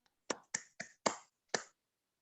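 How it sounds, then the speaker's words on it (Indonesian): Five sharp, isolated hand claps in a quiet room at an Islamic article-writing training session, evenly spaced and close, then silence. "Tepuk tangan untuk Roni"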